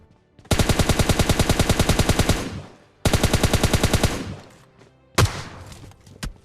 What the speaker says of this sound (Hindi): देखो अब जाके गोली चले उसने।